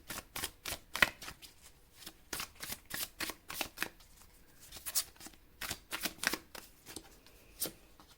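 Tarot cards are shuffled for a reading, a quiet run of crisp riffling and flicking bursts in an uneven rhythm, close and soft.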